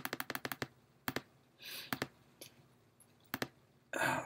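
Mouse clicks at a computer while working in Illustrator, a run of quick sharp clicks followed by scattered single and double clicks with brief soft rustles between, close and fairly quiet with no talk.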